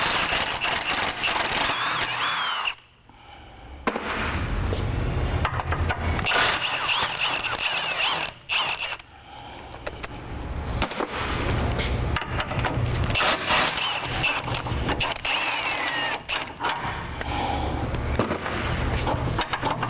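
Bolts come off the tow hook of a Jeep Wrangler JK during a rear bumper swap, with loud, sustained bursts of a power tool broken by brief pauses and a few sharp clanks.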